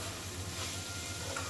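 Fried eggs are stirred into a spicy Bengali egg kosha masala in a pan, giving a soft continuous sizzle with light scraping under a low steady hum.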